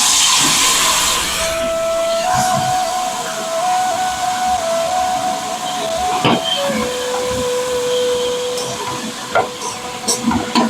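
Taro leaves dropped into hot oil tempered with bay leaf and five-spice, giving a steady loud hiss and sizzle with a few stirring clatters, no voices.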